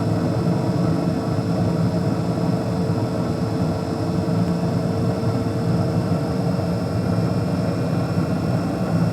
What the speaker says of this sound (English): You hear the inducer fan ramping up.